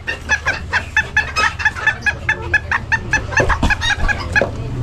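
A rooster at a pet market in Bocaue gives rapid, rhythmic clucking calls in short repeated bursts, close and fairly loud, with no talking over them.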